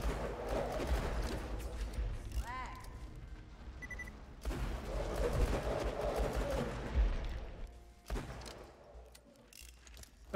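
Gunfire in Borderlands 2 sounds as dense, steady bursts of shots through a busy game soundscape, with a brief pause around the middle and a ringing pickup-like chime near the start.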